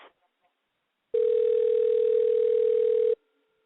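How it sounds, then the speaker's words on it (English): A steady telephone tone sounds while a call is placed, one unbroken electronic hum lasting about two seconds, clean and prominent, preceded by a brief snippet of voice. "I like the phone ring sound, like an effect."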